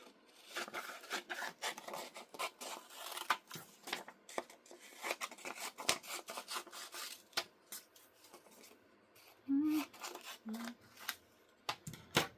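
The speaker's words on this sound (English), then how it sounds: "So let me cut this design out first." Scissors snip and rasp through satin fabric to cut out a sublimation patch design, a run of close, quiet crisp cuts and rustles with brief handling sounds between.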